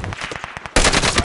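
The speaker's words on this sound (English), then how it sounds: "Taking fire!" Video game gunfire rattles in rapid automatic bursts, quieter at first and then a sudden, much louder close-range stream of shots.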